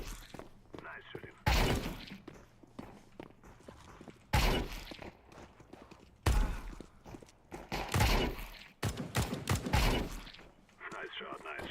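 Bursts of gunfire in a shooting video game, several loud broadband volleys spaced a few seconds apart, with quieter shots and footsteps in between.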